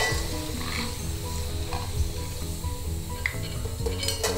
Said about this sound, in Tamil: நல்லா எண்ணெய் காஞ்செடுத்து கொஞ்சம் கொஞ்சமாக போட்டு பொரிச்சு எடுத்துடலாம்.